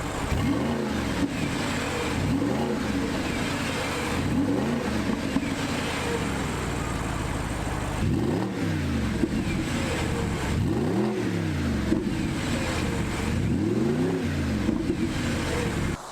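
An Audi R8 Spyder with stock exhaust revs repeatedly, each loud rise and fall of the engine note arriving in a steady rhythm over roughly sixteen seconds, close and with no talking.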